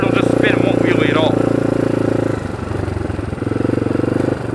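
A motorcycle engine revs hard and steadily while the rider holds a wheelie, then eases back and climbs again, close and loud with someone talking over it.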